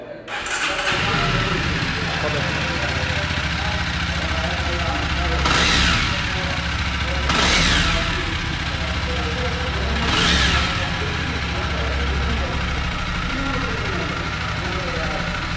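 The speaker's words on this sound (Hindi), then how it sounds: "आइए इस बाइक को स्टार्ट करते हैं एंड साइलेंसर नोट एक बारी सुनते हैं।" A Jawa Standard motorcycle in white starts and settles into a steady idle, its exhaust silencer giving a throbbing thump with three short throttle blips rising and falling, loud and close, with no talking over it.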